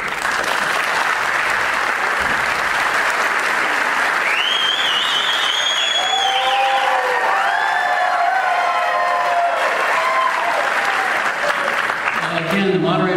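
Audience applause at a public forum on cannabis policy, a broad, steady wash of clapping filling the room for several seconds, with whistles and cheers rising above it and a voice starting to speak near the end.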